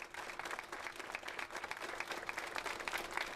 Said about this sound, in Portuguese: Às 2h30 da madrugada, hora aproximada do início do incêndio na Kiss, palmas tomaram conta de Santa Maria.